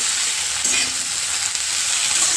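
Tender ghevda bean pods sauté in a hot pan, giving a loud, unbroken hiss of frying with light stirring.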